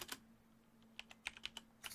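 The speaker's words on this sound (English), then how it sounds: "typing." Faint, quick keystrokes clatter on a computer keyboard in short irregular bursts over a quiet background hum, with no voices.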